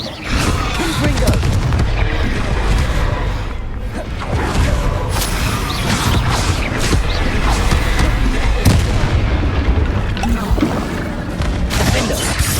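Confringo fire-blast spells cast in Hogwarts Legacy, a string of loud booming explosions and crackling bursts one after another over continuous battle rumble.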